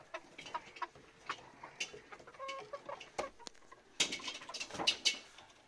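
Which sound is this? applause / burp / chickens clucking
chickens clucking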